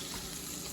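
Chicken stock pours into a cooking pan with a brief, steady watery gush, close and moderately quiet, no voices.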